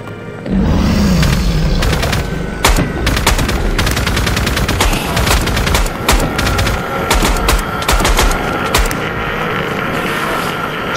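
Rapid automatic gunfire from the video game Minecraft, during a fight against the Ender Dragon with planes and guns, rattles in dense repeated bursts over a steady loud background for most of the stretch.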